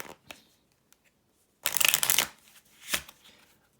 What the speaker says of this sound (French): On mélange et le spectateur peut aussi mélanger et même bien couper.